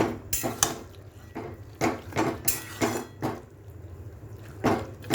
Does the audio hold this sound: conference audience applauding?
no